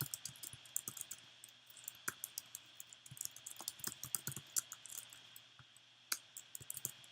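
Rapid, uneven clicking of a computer keyboard as code is typed, close and fairly quiet, with short pauses between bursts of keystrokes and no voice.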